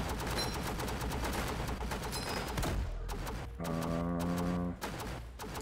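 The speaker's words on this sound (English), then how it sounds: "Having these guns here at the back, these machine guns, makes such a difference." Machine guns in the Northend Tower Defense game rattle in dense, rapid bursts over a steady background of game sound, with a brief pause before firing resumes.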